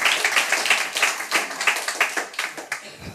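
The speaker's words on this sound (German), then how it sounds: "Applaus, Applaus." Crowd at the opening of the 6th Podlove Podcaster Workshop breaks into steady, dense applause, many hands clapping together at full strength for a few seconds without talk.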